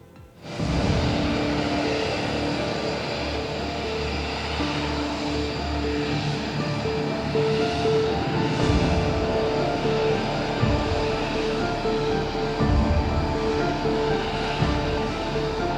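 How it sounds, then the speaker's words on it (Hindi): Iranian Air Force MiG-29 fighter jets flying as escort around a special aircraft, a steady broad roar of jet engines sustained throughout without voices. "तब इस विमान को ईरान की वायुसेना के कई MiG-29 फाइटर जेट्स आसमान में एस्कॉर्ट कर रहे थे।"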